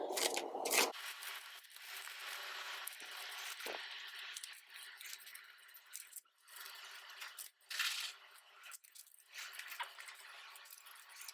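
Playing cards are shuffled with soft riffling and scraping bursts, some quieter rustles and flicks in between, close and fairly faint.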